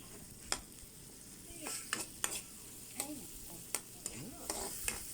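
Butter and onions stirred in a frying pan, with a soft steady sizzle under sharp, irregular scrapes and clacks of the utensil against the pan, close up and with no talking.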